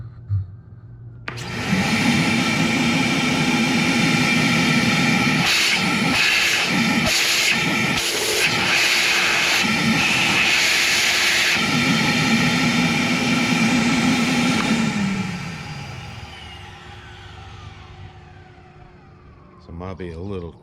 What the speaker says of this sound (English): I'll turn the shop vac on and you can watch the top of that.